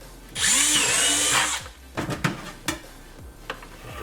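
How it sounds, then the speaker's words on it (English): A power drill boring a hole, a sharp high whine running for about a second, followed by a few clanks and knocks of handling, close and fairly quiet, with no talk. "Just gonna drill a hole through there"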